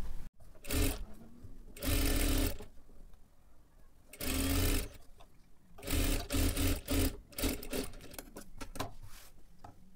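A sewing machine stitches along the edge of a sleeve lining in several loud, close bursts of rapid needle chatter, separated by short pauses with faint handling sounds.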